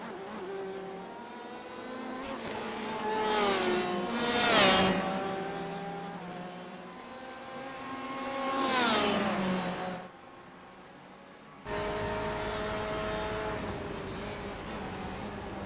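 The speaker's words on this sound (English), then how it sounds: "Stefan to the inside of Reed into turn 1, and it looks like he's got Reed" Race car engines in a sim racing game at Sebring International, a steady loud drone of several cars with rising and falling revs, two louder swells as cars close in, a brief dip, then the engine note resumes strongly.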